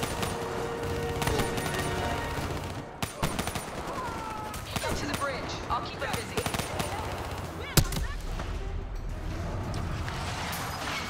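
Sustained gunfire in Call of Duty Black Ops 3, with dense automatic bursts and scattered single shots at middling distance under a steady din of battle, plus one sharper crack near the end.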